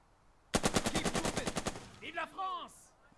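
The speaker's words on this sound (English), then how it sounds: "We'll shoot this squad with this machine gun." A machine gun in the wartime strategy game Burden of Command fires on an enemy squad in one rapid burst of about a dozen evenly spaced, punchy shots. Whistling or ricochet-like tones follow as it tails off.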